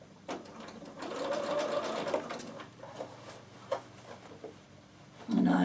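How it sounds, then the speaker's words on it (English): Sewing machine stitching a fabric circle onto the end of a knitting bag, a close rapid whirring run that starts, holds briefly and stops, followed by soft handling clicks. "we're going to sew our circle on the end"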